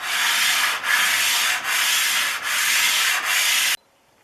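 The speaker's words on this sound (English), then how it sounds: "And after grinding comes lapping." Lapping the sole of a Stanley No. 5 hand plane that has a cracked throat, heard as steady abrasive scrubbing strokes, loud and close, with five long rhythmic passes separated by brief pauses before it stops.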